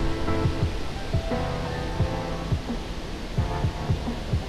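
Water pours over the overflowing Sasoi dam at Jamnagar, Gujarat, as a steady, loud, broadband rushing roar, with faint tonal sounds drifting over it and no talk.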